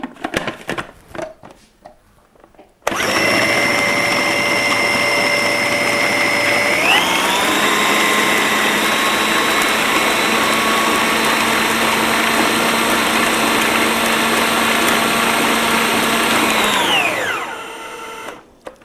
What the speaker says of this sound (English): And then we're just going to whiz that now up to a puree.